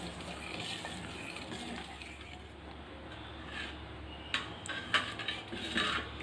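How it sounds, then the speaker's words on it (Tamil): Spoon scraping and clinking against a pot as boiled, cooled milk is stirred into Tamil paal payasam, faint soft scrapes building to a few louder metallic knocks near the end, no talk. "நல்லா கலந்து விட்டுக்கலாம்."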